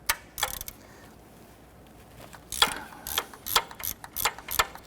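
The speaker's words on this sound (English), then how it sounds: "I'm going to loosen that bolt." A ratchet loosens a 14mm alternator bolt on a 1992-1996 Toyota Camry 2.2L with quick, clicking pawl strokes, one short burst early and a run of close clicks toward the end.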